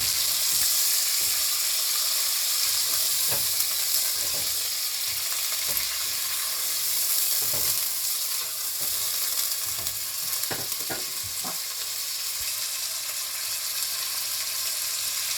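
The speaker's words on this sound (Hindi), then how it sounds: "मैंने ऑयल डाला है और उसमें अदरक लहसुन का पेस्ट डाला है। तो उसको थोड़ा फ्राई करने के बाद मैं चिकन ब्रेस्ट डालूंगी।" Ginger garlic paste frying in hot oil in a pan, a steady close sizzle and crackle lasting throughout, with occasional soft stirring scrapes and clicks, no talking.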